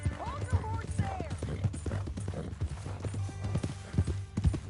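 Horse hooves clip-clop at a steady walking rhythm in a Western video game, with game music and a low drone underneath; a voice speaks over the footfalls near the end.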